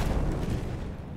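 A heavy, rumbling explosion as a plane crashes in Battlefield 1, a loud low-end blast that fills the moment and slowly decays.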